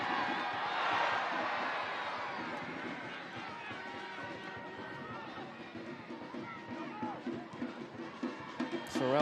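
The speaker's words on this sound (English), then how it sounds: "If you're hearing the crowd maybe louder than you typically would early in a match for the Roots" A stadium crowd at an Oakland Roots soccer match against the Tampa Bay Rowdies swells into a loud roar that gradually eases into a murmur, with scattered shouts rising near the end and voices audible within it.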